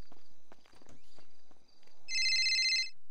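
A phone rings during a call in a GTA roleplay game: a bright electronic ring bursts in near the end, after soft game footsteps and clicks.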